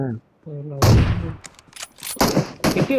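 Automatic gunfire sprayed in the BGMI mobile battle royale game, several loud rapid bursts of shots in quick succession after a brief pause, with a voice talking in between.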